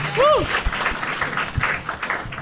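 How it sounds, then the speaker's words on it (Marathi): An audience at a Marathi stand-up comedy show applauds the comedians, the clapping mixed with a whooping voice and talk from the crowd. "चल एकदा जोरदार टाळ्या भाई ओमकारसाठी"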